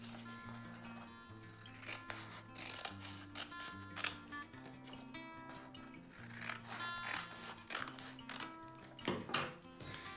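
Scissors snip through folded paper creases while making a zigzag book, giving quiet, close, irregular cutting clicks and crisp rustles over soft background music.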